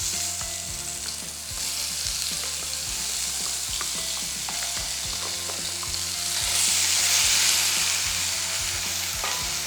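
Ground masala paste sizzling and frying steadily in hot oil with whole cinnamon, cardamom and cumin for a vegetable masala, stirred with scrapes and clinks throughout, growing louder toward the end, with no talk.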